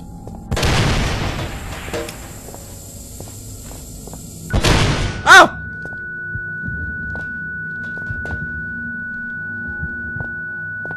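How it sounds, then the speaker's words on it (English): A loud explosion booms in the horror game Penumbra: Overture: a broad burst early on, then a second blast with a sharp pop, followed by a quiet, steady electronic hum and faint footsteps, with no talking. "What the hell was that explosion?"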